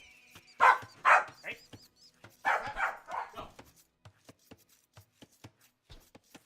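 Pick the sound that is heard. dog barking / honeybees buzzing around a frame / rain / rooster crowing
dog barking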